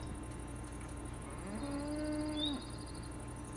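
A Minecraft cow gives a single drawn-out moo lasting about a second, moderately close, over a steady game ambience with no talking.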